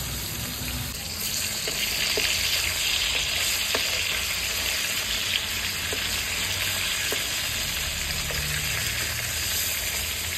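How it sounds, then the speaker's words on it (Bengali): Fish sizzles steadily in hot oil on a clay stove, a dense, close crackle and hiss that runs unbroken for the whole stretch, with a few faint clicks of stirring or utensils. "সুন্দর ভাজি হয়ে গেছে।"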